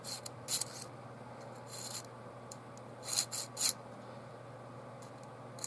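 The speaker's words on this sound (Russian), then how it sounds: "Все-таки давайте я надфильком еще немножко" A needle file rasps on the axis lock of a Ganzo folding knife under repair, in a few short, quiet scraping strokes, some in quick pairs, with pauses between them in a still room.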